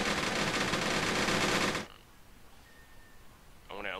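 Soldiers firing rifles and machine guns in the war game Graviteam Tactics, a dense, loud rattle of rapid shots lasting about two seconds before cutting off to quiet ambience, followed by a brief sound at the very end.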